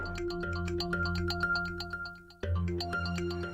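A phone ringtone plays a steady, repeating electronic melody throughout, with a brief break midway before the tune resumes, and no talking.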